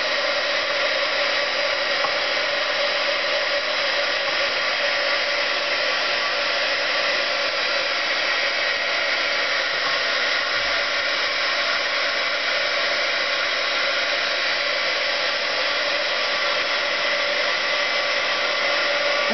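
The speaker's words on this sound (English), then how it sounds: "And then you just take your heat gun, and this is going to be kind of noisy" Heat gun blows in a steady, loud, unbroken hiss and whoosh for the whole stretch, with no talking over it.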